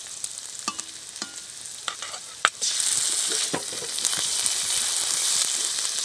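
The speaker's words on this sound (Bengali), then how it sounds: "এবার ওর মধ্যে আমি দিয়ে দেবো আদা রসুন বাটা" Lightly fried chopped onion in hot oil crackles as a spatula scrapes and taps the pan, then the sizzle swells into a loud, steady hiss once ginger-garlic paste is added.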